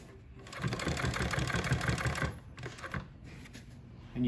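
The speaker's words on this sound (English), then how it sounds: "we use a walking foot double needle. So it's two needles that are sewing at the same time." A walking foot double needle industrial sewing machine stitches waxed canvas for a workshop apron, a close, loud rapid mechanical chatter running steadily for about two seconds, then stopping and restarting in short bursts.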